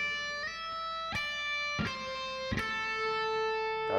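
A horizontal pentatonic lick on electric guitar, played slowly as a few sustained picked notes with clear attacks and ringing tones, alone with no talk.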